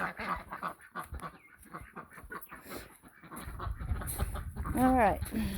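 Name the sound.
chicken clucking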